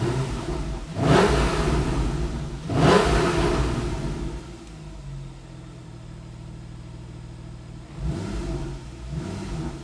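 A Porsche 911 Carrera S (991.1) engine revs sharply twice, then settles into a low, rumbling idle before another burst of revving near the end.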